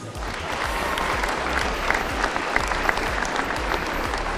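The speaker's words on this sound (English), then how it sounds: "Give them one more round of applause" Crowd applause in a gym at an Ohio high school boys basketball game, steady dense clapping from a large audience sustained throughout at a fairly loud level.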